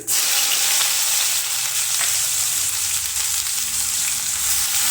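Cumin seeds with crushed garlic and ginger fry in hot oil for a Punjabi kofta curry. The sizzle is loud, close and constant, a dense hiss with faint stirring ticks underneath.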